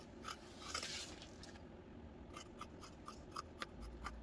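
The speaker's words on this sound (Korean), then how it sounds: "그냥 이 정도 여유 있게 이렇게 잘라주세요." Scissors snip through fabric being cut for a baby's top-and-bottom set, a string of short crisp cuts with faint scraping, close and quiet with no voice.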